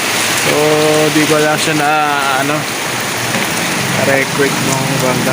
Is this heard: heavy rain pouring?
yes